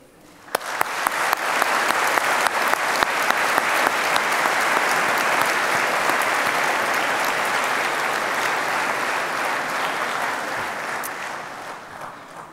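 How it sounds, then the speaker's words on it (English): A large graduation ceremony audience breaks into a long, sustained round of applause, rising quickly from a few early claps to a full, even roar that tapers slightly at the end. "Graduates, please join me in a round of applause to thank all those who have helped you along the way."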